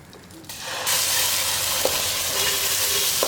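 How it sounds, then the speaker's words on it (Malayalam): Loud, steady sizzling in a pan with occasional utensil taps as ground masala paste and chili powder are stirred together, no voices. "ഒന്ന് ഇളക്കി കൊടുക്കാം മുളക് പൊടിയും ഈ മസാലയും നന്നായിട്ട് മിക്സ് ആയി വരണം"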